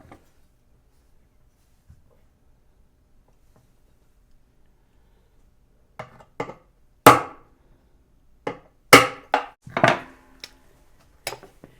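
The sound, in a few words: small tack hammer tapping back of a parting knife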